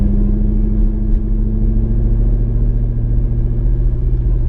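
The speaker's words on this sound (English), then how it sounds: "going up a hill in second gear, no problem, so that means the clutch is working" Car climbing a hill in second gear with the clutch engaged, a loud, steady, close engine rumble holding an even drone without revving or gear changes.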